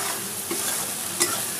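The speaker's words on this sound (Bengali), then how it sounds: "এবার মশলাটাকে খুব ভালো করে কষিয়ে নেব।" Masala being stir-fried in a pan for a Bengali potato, pointed gourd and prawn curry, a steady close sizzle with a couple of brief scraping stirs, no voices.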